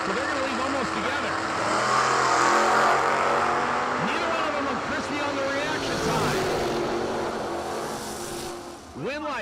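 A 1983 Chevy Camaro and a Nova launch side by side at a drag race, engines roaring loudly and rising in pitch together, with a crowd and commentary underneath.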